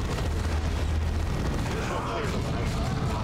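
Heavy rapid cannon fire from an assault cannon in the Warhammer 40K: Dawn of War 2 video game, a dense continuous roar of booming shots and blasts filling the whole stretch.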